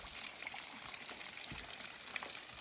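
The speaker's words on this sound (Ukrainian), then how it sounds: "І водоспад буде у всій красі." Steady rushing water from the Divochi Slozy waterfall in the Dniester Canyon, Ukraine, heard from a short distance, a constant hissing wash with no voices.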